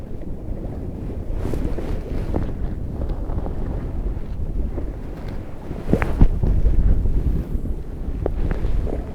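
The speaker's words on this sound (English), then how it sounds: "Wind settled down a bit, so I'm not having to compensate there." Steady wind buffets the microphone at an open reservoir during match fishing, a continuous low rumbling roar with gusts swelling louder around the middle and no speech.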